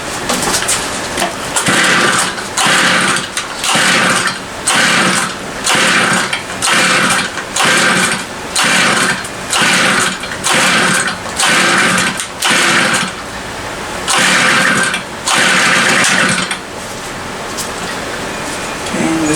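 A BladeZ Moby X gas scooter engine running after about a year of sitting unused, giving loud, regular pulsing revs roughly every second, close up, steady to the end.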